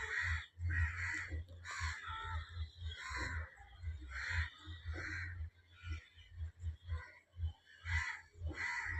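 Crows caw over and over in short, harsh calls, with several birds answering one another at moderate distance throughout.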